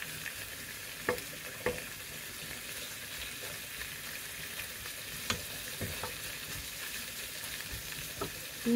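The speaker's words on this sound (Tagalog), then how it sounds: "atin siyang takpan at continue ang paghalo hanggat sa maluto yung ating pork" Pork for adobo sa gata being stirred and fried in a pan, a steady soft sizzle broken by occasional sharp clinks of the utensil against the pan, close up with no talk.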